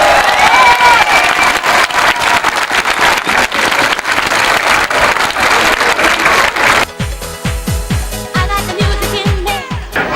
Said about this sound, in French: c'est l'occasion pour vous d'applaudir celui qui l'emporte dans cette catégorie S3000, Cédric Teguin.